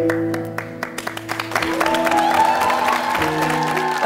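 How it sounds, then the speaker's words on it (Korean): A studio audience at a Korean TV talent show breaks into welcoming applause, steady dense clapping building over a background of sustained music. "여러분 따뜻하고 큰 박수로 환영의 박수를 부탁드리겠습니다"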